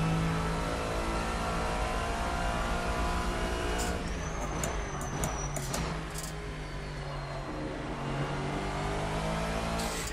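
A Lexus GT3 race car engine drones steadily at high revs in a racing game, with a brief burst of shifting or rattling midway and no talk.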